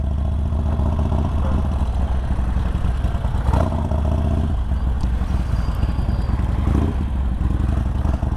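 A KTM 1290 Super Adventure motorcycle on the move, its engine a steady, loud drone with continuous road and wind noise throughout and brief clattering bumps, no talking.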